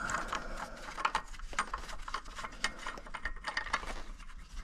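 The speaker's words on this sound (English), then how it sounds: "I didn't even use the impact on it. Just undoing the nut." Hand ratchet undoing a nut under a Dodge Aspen, giving a steady run of quick, close mechanical clicks in short rhythmic strokes, moderately quiet, with no talking.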